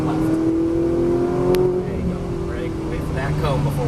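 A Ferrari 458 Italia accelerates on a track, its engine note rising in pitch from close by while an instructor talks over it.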